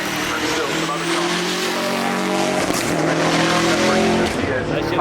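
Race cars thunder along the hill climb at the Goodwood Festival of Speed, their engines roaring loudly and close while tires squeal, with a voice commentating over the noise throughout.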